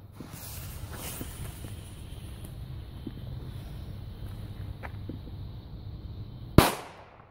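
A China Böller firecracker explodes outdoors near the end with one sharp, loud bang and a quickly fading tail, after several seconds of quiet, steady background noise with faint scattered pops.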